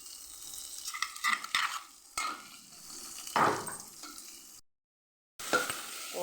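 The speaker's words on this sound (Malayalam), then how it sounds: "ഇനി നമുക്ക് ഇടിച്ച് വെച്ച മസാലകളെല്ലാം ഇടാം" Crushed spices of garlic, cumin and coriander hit a hot pan for chickpea rasam, crackling and sizzling with bursts of stirring scrapes, close up, broken by a brief silent gap.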